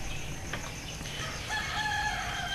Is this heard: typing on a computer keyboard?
no